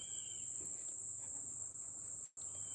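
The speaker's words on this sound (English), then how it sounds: "Crickets only chirping at a certain time." Crickets chirp outdoors in a continuous high, shrill trill that stays steady and faint throughout, briefly cutting out near the end before resuming.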